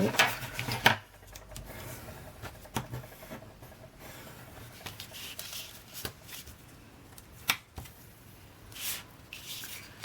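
Paper for a watercolour album is folded and handled up close, making soft rubbing and creasing, sharp crisp snaps and light taps against the table, with quiet rustling in between.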